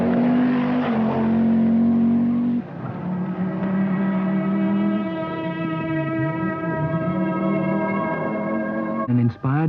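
A 1983 Audi Quattro rally car, number 6, roars loud and close on the Kenya rally route, its engine note holding strong, shifting pitch midway and rising again near the end, with a voice talking over it.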